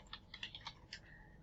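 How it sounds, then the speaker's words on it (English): Light, quick typing on a computer keyboard, with about a dozen soft key taps in an uneven rhythm, close but faint, alone with no talk. "you'll just type in assignment 1"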